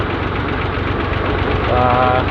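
A loud, steady diesel tractor engine chugs continuously at close range on the road at the Jamnagar toll gate, with a faint whining tone near the end.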